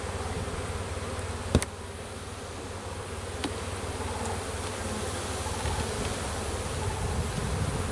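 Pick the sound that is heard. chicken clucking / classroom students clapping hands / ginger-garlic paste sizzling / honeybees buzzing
honeybees buzzing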